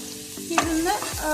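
Garlic, ginger and green chilli fry in hot oil in a pan, a close crackling sizzle with a sharp burst of stirring near the middle and a second scrape shortly after.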